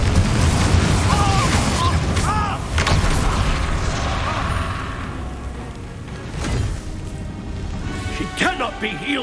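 Confringo blasting spell explosions in the video game Hogwarts Legacy: heavy booming blasts and crashes with whooshing spell sounds, loud and repeated, mixed with shouted voices and a game score.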